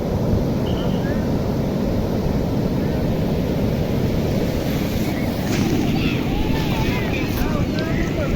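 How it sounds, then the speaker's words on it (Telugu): Big ocean waves roll and crash at a Goa beach near Vasco da Gama, a loud continuous roar with heavy wind buffeting the microphone. "అంతే పెద్దగా అలలు వస్తున్నాయి చూడండి"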